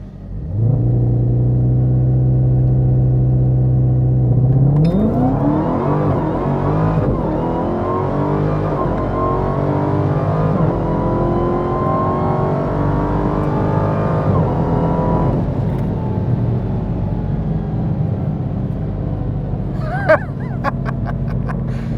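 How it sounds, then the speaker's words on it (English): A 2018 Dodge Challenger SRT Demon on a drag strip, its supercharged V8 loudly rumbling at idle, then roaring hard through rising gear-by-gear revs during a launch run before easing off, close and loud throughout with no talking. "So let's go get some runs on the drag strip."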